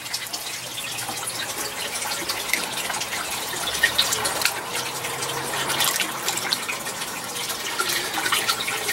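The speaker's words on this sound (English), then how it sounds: "if you go through the tank and just stir it up, catch it with the net" Water sloshes and gushes steadily as a net stirs through an aquarium sump tank, a continuous close churning wash with no speech.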